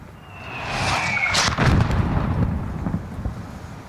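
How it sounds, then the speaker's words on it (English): A mortar round whistles in and bursts in a deep, rumbling explosion during a Modern Warfare combat mission, and the boom trails off into low echoing rumble. "There's still a mortar out there."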